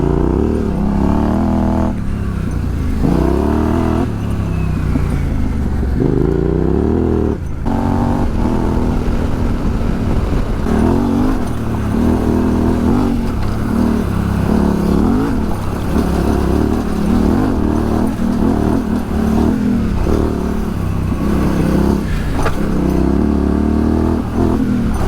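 Yamaha Tenere 700 adventure motorcycle ridden off-road on single track, its engine droning loud and steady throughout with shifting revs and rough clatter from the terrain.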